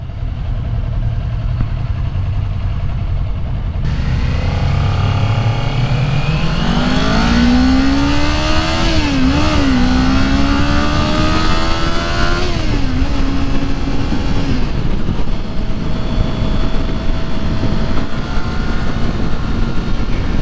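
A 2022 Kawasaki Ninja 400 motorcycle engine revs up through rising pitch as it accelerates, holds at a steady drone, then drops back toward a rumbling idle, loud and close.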